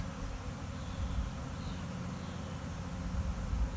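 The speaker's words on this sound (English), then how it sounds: "bees should start fanning if she's inside the box" A honeybee swarm buzzes at a hive box, a dense, steady, close drone that holds unbroken throughout.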